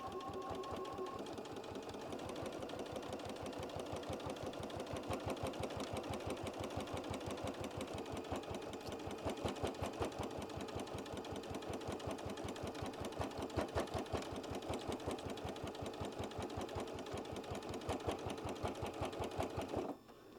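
Sewing machine stitching around a fabric scissor pouch over thick strap layers, a steady fast mechanical chatter of needle strokes running unbroken at even pace, close and alone.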